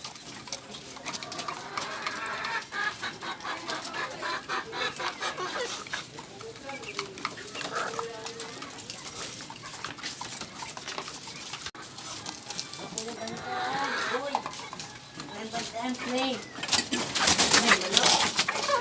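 A hen with her young chicks, soft clucking and peeping close by and mixed with cooing, while people talk throughout.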